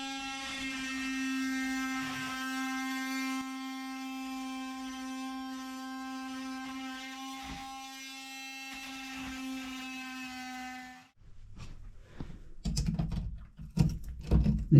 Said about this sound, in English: so I'm going to multi-tool now around the grout line and try and break these tiles out